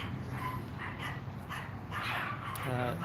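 Small yappy barking and whimpering from what seems a little pack of three chihuahuas, moderately close, mixed with muffled voices and background noise throughout.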